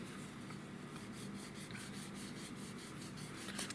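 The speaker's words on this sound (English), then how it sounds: "we can go ahead and have a sanding party" Quiet, steady scratchy rubbing of a sanding stick on plastic model aircraft wings, a continuous rasp with faint rhythmic strokes, close and with no talking.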